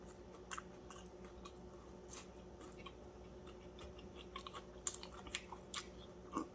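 Close, quiet crunching of fried fish being chewed, irregular crisp bites and crackles scattered over a low steady room hum, with a few louder snaps toward the end.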